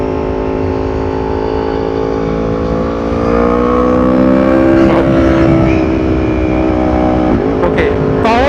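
Yamaha R1 sport motorcycle pulling hard in power mode 1 through a low gear, a loud steady engine drone with rising harmonic whine as revs climb, brief dip and shift near the end, wind noise underneath.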